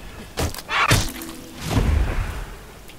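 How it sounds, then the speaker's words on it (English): Thief sword slice attacks in Guild Wars 2: a few quick, dull thwacks and thuds land within about three seconds, close and moderately loud, with swishy bursts between the hits. "The normal slice, which is just a normal melee attack."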